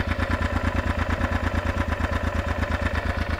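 A motorcycle engine idling close by, a steady, even run of rapid low thumps with a slight mechanical clatter, heard alone for a few seconds.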